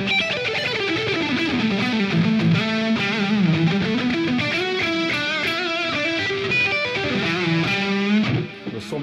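An electric guitar played through effects presets rings out loud and distorted, shifting through sustained, heavily processed tones and melodic phrases with no talking over it.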